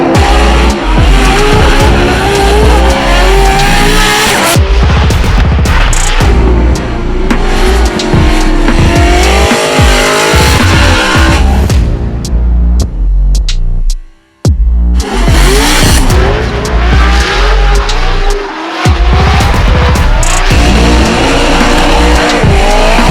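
A Formula Drift car drifts hard at Orlando Speedway, its engine roaring loud and close while the tires squeal and skid in long sustained bursts, dropping briefly to near quiet midway before the screeching resumes.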